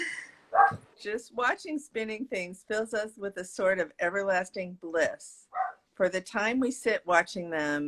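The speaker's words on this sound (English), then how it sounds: "And that's my dog commenting." A pet dog barks briefly in a home while a person talks steadily over it, its short yaps partly buried under the continuous speech.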